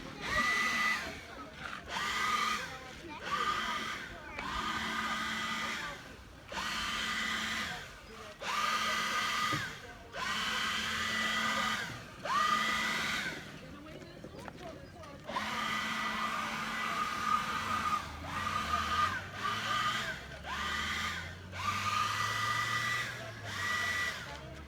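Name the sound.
blower clearing heavy dirt from a road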